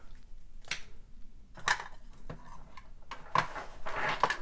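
Plain wooden beads are dropped into a storage drawer, giving a few separate bursts of dry clicking and rattling, close and fairly quiet, spaced across a few seconds.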